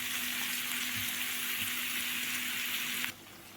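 Beef liver sizzles and fries steadily in a hot pan, a dense continuous crackle close up with no talk, cutting off abruptly near the end.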